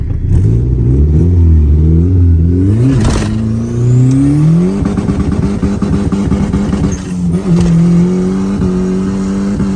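A boosted Honda CRX revs hard through a second-gear burnout, its engine note climbing and dropping in loud sweeps with brief gear-change breaks, close and dominant throughout.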